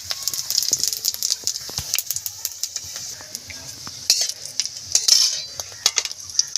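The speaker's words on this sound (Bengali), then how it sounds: "ফোড়নে দেব 5 ফোড়ন আর শুকনো লঙ্কা।" Panch phoron and dried red chillies hit hot oil in a heated kadai, giving a light, steady sizzle and crackle close by, with scattered clinks and scrapes of a metal utensil against the pan throughout.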